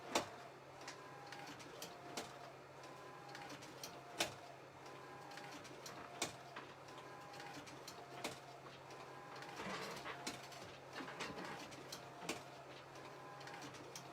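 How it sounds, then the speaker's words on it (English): A sublimation printer runs on a neoprene laptop cover, giving a steady mechanical hum with repeated sharp clicks and carriage knocks at an uneven pace, moderately loud and with no talking. "So let it print"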